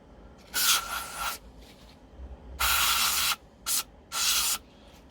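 Bike degreaser sprayed onto stripped-down front wheel parts: four hissing aerosol bursts of varying length, close and fairly loud, separated by brief quiet gaps.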